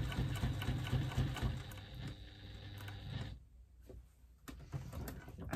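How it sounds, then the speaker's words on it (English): A sewing machine whirs steadily while back stitching and then stitching around a fabric bag slip pocket, close and fairly quiet, pausing briefly midway before running again. "I'm just back stitching a couple of stitches, and I'm going to stitch around my pocket"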